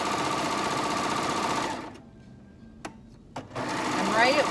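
A serger sewing machine whirs loudly through a quick test stitch, then stops abruptly, followed by a couple of small clicks before it starts running again.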